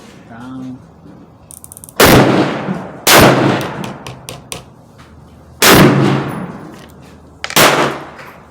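Four loud, sharp rifle shots from a Savage Axis II XP hunting rifle, each with a booming thump and a decaying echo, spaced irregularly over several seconds outdoors with no talk.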